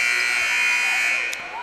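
A loud, sustained electronic buzzer at an eighth-grade boys' basketball game drones steadily for over a second, with a flat tone and crowd noise underneath.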